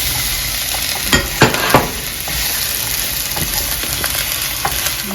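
Yellow squash goes into a sizzling pan of arroz con pollo, a loud, steady frying hiss with a few sharp clatters and scrapes of stirring near the start.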